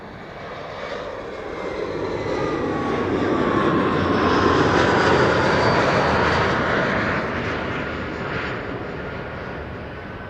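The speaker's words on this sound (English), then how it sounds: "There's the Emirates 777 that landed on 36 right. Coming this way." An Emirates Boeing 777 rolls out after landing on runway 36R at Amsterdam Schiphol, a loud, steady jet-engine roar that swells to a peak midway and slowly eases off, with no voices over it.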